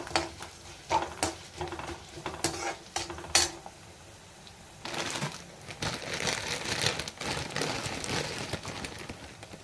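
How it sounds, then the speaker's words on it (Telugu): Ingredients for a coriander and tomato chutney frying in a pan, heard as crackling sizzle with spoon scrapes and stirring bursts, a quieter pause midway and then steadier frying noise. "వీటన్నిటిని బాగా ఫ్రై అవ్వాలి ఇవన్నీ బాగా లైట్ గోల్డెన్ బ్రౌన్ కలర్ వచ్చేంత వరకు ఫ్రై చేసుకోవాలన్నమాట"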